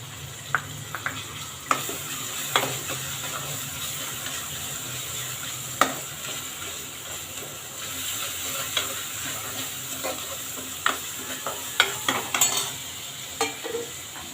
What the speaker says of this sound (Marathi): त्याच्यामध्ये आपलं कांदा खोबऱ्याचं वाटण परतून घ्यायचं आपल्याला